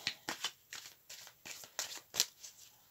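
Tarot cards are shuffled by hand for a nine-card reading, giving a quiet, close series of about a dozen quick riffling swishes in an uneven rhythm, with no talking.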